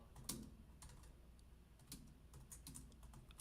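Typing on a computer keyboard during a UFC livestream, with quiet, irregular clicks and one sharper tap near the start, fairly close and alone without talk.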